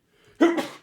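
A single sharp, close sneeze, a short breathy intake followed by an explosive burst that quickly fades.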